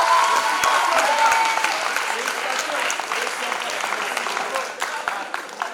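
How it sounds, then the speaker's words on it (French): Enthusiastic applause from a school audience at an inter-school theatre competition final, dense clapping close by that gradually thins and fades over several seconds. "on applaudit très très fort pour les 5e de la préparation"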